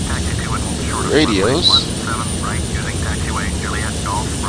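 Jet engine on a Boeing 767, the Captain Sim 767 in FSX, spooling up with a steady broadband roar, while cockpit radio chatter and a talking voice sit over it.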